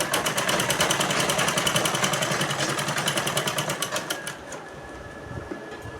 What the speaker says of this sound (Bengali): এটা বরাবর রেখে আমি এখানে সেলাইটা করে নিচ্ছি